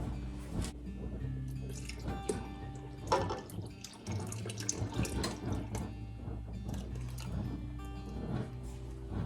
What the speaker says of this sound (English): what you're hearing back here is my jar staying warm in my water bath canner